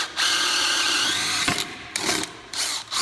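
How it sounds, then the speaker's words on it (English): Brushless DeWalt DCD996 drill in mode 3 bores pine with a 1 inch auger bit, a loud whirring grind with brief pauses and bursts as it cuts. "Mode 3 on pine with about a 1 inch, 7/8 auger?"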